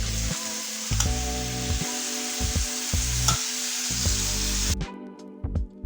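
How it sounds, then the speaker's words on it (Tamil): Tomatoes fry in a pan with a loud, continuous sizzle, broken by the regular scrape and clatter of stirring; near the end the sizzle cuts out, leaving only light clinks. "இந்த அளவுக்கு தக்காளி நல்லா வதங்கட்டும்"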